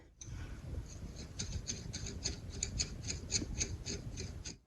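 A steady, rapid mechanical ticking and scraping, a worn engine lifter with a flat spot clattering with a dry, raspy rhythm over low LS engine rumble, close and continuous.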